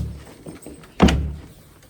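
A door kicked open, one sharp heavy thunk with a short low rumble after it, close and loud, with a few faint soft knocks just before.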